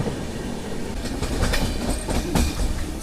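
The Falaknuma superfast express pulls away from Tadepalligudem station, heard from inside a general coach, a steady rumble with soft clickety-clack of wheels over rail joints, no talk.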